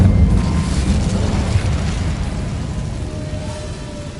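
An Incendio fire spell bursts in Hogwarts Legacy with a loud, booming blast that rumbles on, then slowly fades over several seconds.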